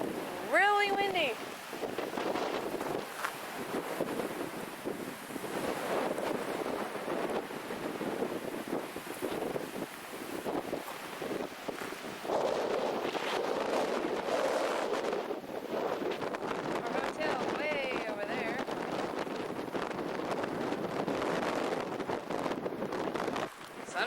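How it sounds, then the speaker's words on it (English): Strong wind at Yeppoon beach buffets the microphone in a continuous, gusty roar that rises and falls over the whole stretch, with distant surf beneath and people talking briefly at times. "Really windy."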